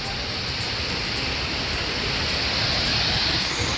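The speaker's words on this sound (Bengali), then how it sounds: "আথারাপাল্লি ওয়াটারফল এই হচ্ছে ঝর্ণা" A loud, unbroken roar of rushing water from Athirappilly waterfall nearby, broad and steady, with no voices.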